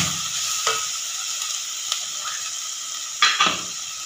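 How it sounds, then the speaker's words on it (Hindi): Cooked beef keema sizzles in a pan of sautéed onions, a steady bright frying hiss with a few soft scrapes and knocks of the spoon as it is stirred in. "प्याज सौते हो गया है। अब ये जो कीमा पकाया था मैंने ये इसमें जाएगा।"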